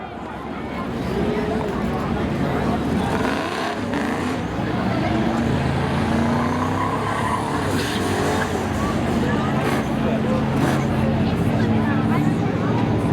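Spectator drag racing cars at Seekonk Speedway in a Memorial Day thrill show, engines roaring continuously and loudly with rising and falling revs, over a crowd murmur and an announcer's voice.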